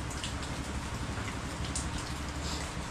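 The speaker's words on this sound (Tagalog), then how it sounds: "walang lubay yung ulan" Steady heavy, unceasing typhoon rain patters densely on a surface, an unbroken hiss of drops with a low rumble beneath, and no voices.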